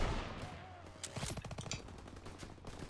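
Rapid gunfire crackles in Call of Duty: World War II, a close burst of automatic shots in a quick rhythm followed by scattered fainter shots in the background.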